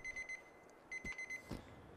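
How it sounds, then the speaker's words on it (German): A mobile phone in the game GTA IV rings with a repeating electronic beeping pattern in two short bursts, faint and alone, with a soft thump between them. "Jetzt klingelt das Handy."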